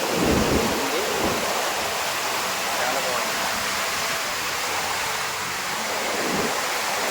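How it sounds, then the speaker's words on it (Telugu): A waterfall at Ashoka Vatika near the Sita Amman temple in Nuwara Eliya, Sri Lanka, gives a constant close roar of rushing water, loud and unbroken throughout. "water falls"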